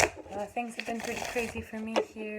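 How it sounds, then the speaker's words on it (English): A deck of cards is shuffled softly under a person speaking close to the microphone, the quick riffles faint beneath the voice. "I'm just shuffling the cards now"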